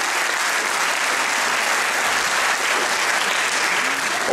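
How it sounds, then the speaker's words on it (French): A festival audience applauds an Italian folk performer, dense steady clapping that fills the space loudly and evenly from start to finish with no voices on top. "Encore un applaudissement pour Italo Folì parce que c'est mérité"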